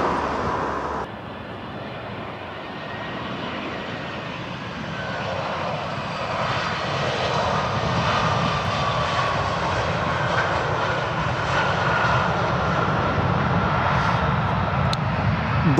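An airplane passes over a cycle path between runways near Brussels Airport, a loud, steady jet engine roar that holds throughout with a slight swell midway, no voices.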